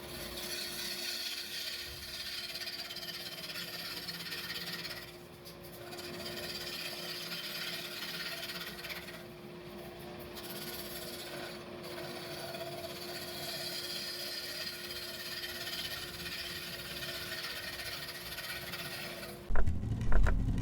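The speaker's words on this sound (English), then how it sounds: "just come around and just smooth it off with the bull gouge" Bowl gouge cutting a spinning wooden bowl on a lathe, a continuous close scraping hiss with a steady motor hum underneath, ending in a louder clatter.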